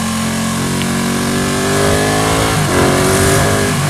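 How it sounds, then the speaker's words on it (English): A Ducati 1199S Panigale sport motorcycle engine revs hard and steadily, a loud, close, continuous mechanical drone that climbs in pitch partway through, with no talking. "When you get that engine humming up here"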